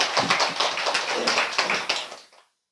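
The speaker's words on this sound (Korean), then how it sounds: "박수 한번 쳐야 되겠다." An audience at a Buddhist dharma hall claps together in a brief burst of dense, steady applause that fades out within a few seconds.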